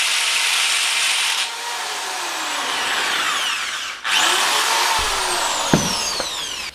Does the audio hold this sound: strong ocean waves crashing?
no